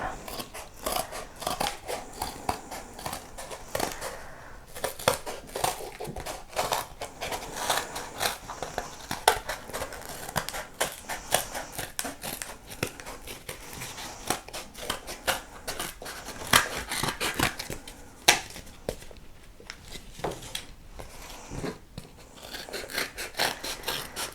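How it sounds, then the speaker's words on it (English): Scissors snip repeatedly in quick, uneven bursts, crisp and close, as paper is cut with short pauses between runs of cuts. "I'm going to take my scissors and cut out my sheep."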